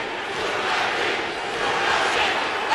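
A wrestling arena crowd keeps up a loud, continuous chant for Funaki, a dense roar of many voices that holds steady without any breaks.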